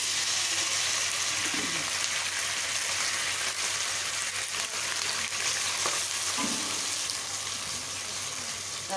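Golden-browned onions frying in oil sizzle loudly and steadily after two to three tablespoons of water go into the pan, a close, continuous crackle with no talking.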